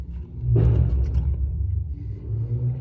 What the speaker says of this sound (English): I don't mind so much that cars like have loud mufflers and stuff